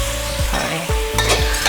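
Fish sauce and soy sauce splashed around a hot pan sizzle loudly alongside steady stirring and scraping, with a brief sharper burst of frying near the end.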